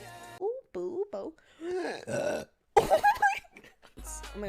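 Several burps from a woman, close and loud, coming in short bursts with vocal groans and exclamations between them.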